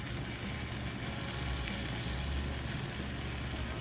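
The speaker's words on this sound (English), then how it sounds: "Ooh, that sizzle." Barbecue ribs with Asian sweet chili sauce sizzle steadily on a grill, a continuous close crackling hiss with a low rumble beneath and no talking.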